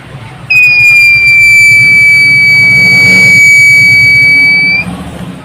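A loud, steady high-pitched electronic alarm buzzer from a fire alarm science project model sounds continuously for about four seconds, then cuts off abruptly.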